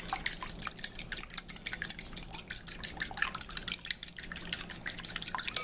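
Beaten eggs whisked in a bowl during a Pampered Chef kitchen demonstration, giving a steady rapid run of wet clicking and tapping strokes at close range with no voices.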